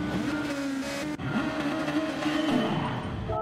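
Race cars in a FlatOut Racing League amateur-division round at Autopolis in a racing video game roar off the start together, a dense layered engine drone with rising revs and faint tire squeal, loud and continuous with no talking.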